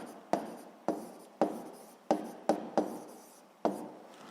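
A pen writes down answers for a grade 7 physics self-check exercise in a series of about seven quick scratchy strokes, close and fairly quiet, with no voices.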